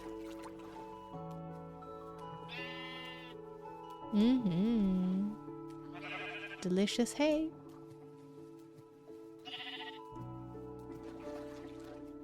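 Two short, wavering bleats from a Minecraft sheep, one after the other, over a steady hum of ambient music, with a person speaking briefly.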